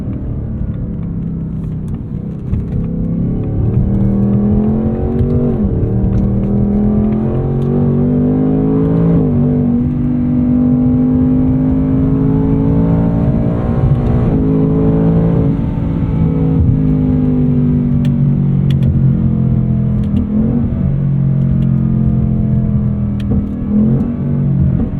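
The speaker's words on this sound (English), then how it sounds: "Jeez, it really gets you with those downshifts." A 2024 Ford Mustang Dark Horse with a 10-speed automatic downshifts in daily driving. Its engine holds a continuous rumbling drone that swells and dips as the revs rise and fall, steady and prominent with no talking.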